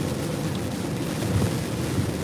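Steady low rumbling wash of rain heard from inside a car, continuous and fairly close, with no voices over it.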